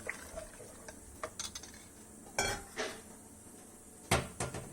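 A spoon stirs an amaranthus greens curry in a cooking pot, giving a few sharp metallic clanks and scrapes against the pot at uneven intervals, close and clear, with no talking.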